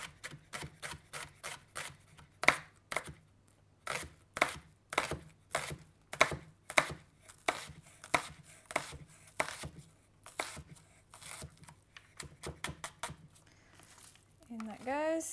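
A knife chops an onion on a cutting board in a home kitchen, sharp crisp rhythmic strokes in quick bursts with short pauses, and a voice comes in at the end.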